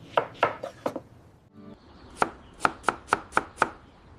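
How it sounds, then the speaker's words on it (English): Fresh herbs are chopped with a knife on a wooden board in a kitchen: a few quick close cuts, a short pause, then six evenly spaced crisp chops. "I chop the herbs."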